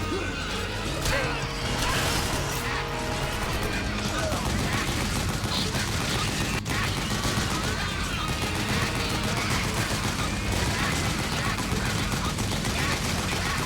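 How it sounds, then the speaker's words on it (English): Rapid gunfire from the video game Metal Gear Solid 4, dense bursts of automatic shots and crashes that run continuously and loudly over a busy battle soundscape, with a voice occasionally talking underneath. "Don't actually see what I'm shooting at."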